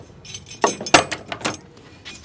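Keys jangle in a few bright metallic bursts during a pretend jail escape game at home, with clinks close to the listener and no talk.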